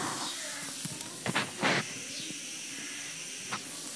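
Chopped onion sizzles steadily in hot oil with cumin seeds and bay leaf, a constant bright hiss with a few louder crackling bursts as pieces hit the pan, fairly quiet and close.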